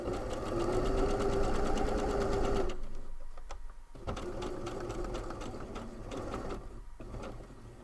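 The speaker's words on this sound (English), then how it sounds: "So basically, I am sewing in that little crease on the bias binding that I showed y'all earlier." A sewing machine stitches the crease in stretchy bias binding for a sweater: a close, fast, even whirring hum that drops after a few seconds and continues in lighter, intermittent bursts.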